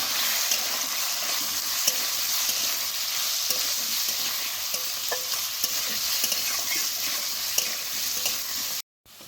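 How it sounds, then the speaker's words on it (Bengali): Potatoes and onions fry together in a pan, a steady close sizzle broken by scraping clicks of a utensil stirring them, continuous throughout with a brief dropout near the end. "তাহলে আলু আর পেঁয়াজটা একসাথে ভাজা হয়ে যাবে।"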